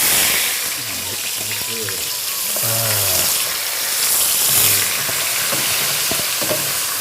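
Onions sizzle and fry steadily in hot oil for gongura pulao, a continuous hiss with stirring, while a voice talks over it.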